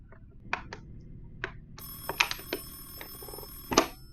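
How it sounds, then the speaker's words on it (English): An old-style telephone bell rings in a few short, bright, metallic bursts, fairly close and clear, with brief pauses between the rings. "The phone is ringing."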